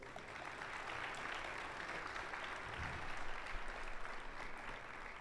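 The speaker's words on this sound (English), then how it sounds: "You can clap for them, too." A crowd in a high school wrestling gym applauds the assistant coaches as they walk out onto the mat, a steady, distant wash of clapping that swells slightly near the end.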